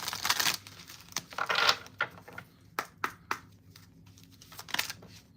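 A deck of tarot cards being shuffled by hand at close range, with several bursts of crisp riffling and flicking followed by sharp, separate card taps and snaps, in a quiet room with no voices.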